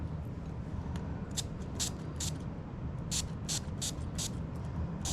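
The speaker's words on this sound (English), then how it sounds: "Spray the inside of the glass with atomizer." An atomizer sprays Lucid absinthe into the inside of a cocktail glass: a string of short, crisp hissing puffs in quick bursts over a steady low background hum.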